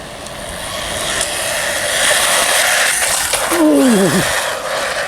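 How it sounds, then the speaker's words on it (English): A Hyper Go 16207 brushless RC buggy on 3S power whines and buzzes as it drives, its motor pitch swooping up and down near the end of a short burst. "I need to try and get it going straight before I give it any more than half throttle."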